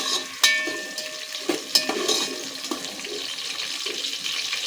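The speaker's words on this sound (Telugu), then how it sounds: "ఇవి వేగుతున్నాయి కదండి, కొద్దిగా వేగనిద్దాం. వేగుతున్నాయి కదండి, ఇందులోనే ఉల్లిపాయ ముక్కలు వేసుకుందాం." Onion pieces frying in hot oil in a pan for prawn pulao, a steady broadband sizzle running throughout with a few sharp clinks and pops from stirring near the start.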